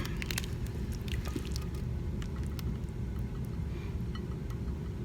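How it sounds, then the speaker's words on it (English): Warm liquid is gently poured over monkey bread dough in a bowl, making a continuous low, wet squishing flow with soft drips and patter, no voices. "all you're going to do, don't splash it, is gently pour it"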